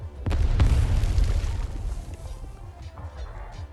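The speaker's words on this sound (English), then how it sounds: "A salvo of artillery fire." Artillery salvo bursts in a voice-acted game battle scene: a heavy, close boom hits, then a dense rumbling wash of blasts that slowly fades into low debris and dust noise.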